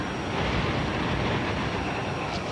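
A boat engine roars steadily on an Arctic river trip in Russia, a dense, even rumble of noise with no pauses, fairly faint and constant throughout.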